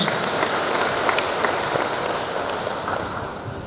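Crowd applause at an inauguration ceremony for officials and school principals, dense continuous clapping close and loud, slowly easing toward the end.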